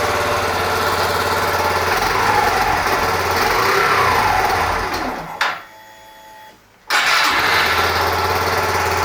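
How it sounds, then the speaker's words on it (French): A Yamaha YBR 125 motorcycle engine that has not run in a while revs up loud and close with a ragged, high-pitched buzz. It drops out briefly, then catches again and keeps running. "ça fait un moment qu'elle n'a pas tourné, mais elle démarre, donc première étape réussie."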